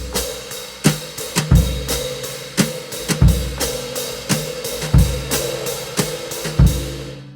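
Drum groove with quarter notes on the ride cymbal plus hi-hat, snare and kick drum. A steady, close ride pulse runs under punchy kick and snare hits in a repeating pattern.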